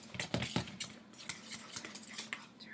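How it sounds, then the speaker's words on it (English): Eggs being whisked into batter, with a quick, steady clatter of the whisk striking the sides of the bowl, close up and moderately quiet, with no voices. "you have to add them one at a time, and whisk"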